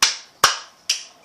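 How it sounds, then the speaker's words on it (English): Three sharp, bright hand claps for the cup song, evenly spaced about half a second apart, each a crisp close smack with a quick decay and no talking. "So first you clap twice,"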